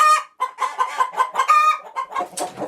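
Chickens cluck steadily inside a chicken coop with a linoleum floor, close and loud, a dense run of overlapping calls with short gaps between bursts.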